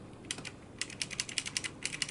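A Razer BlackWidow 2014 mechanical keyboard key, pressed with its keycap removed, gives a quick run of soft, light clicks, close and quiet, with no voices.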